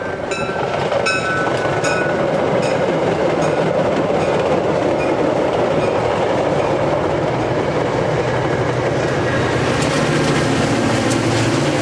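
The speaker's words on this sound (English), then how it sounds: "Soon after came MCS Train 158, running with an extra long train of 5 cars." MCS Train 158, an extra long five-car train on the Nashville & Eastern line, rolls past loud and close with a steady rumble, rhythmic clickety-clack of wheels over rail joints and a faint high squeal near the end.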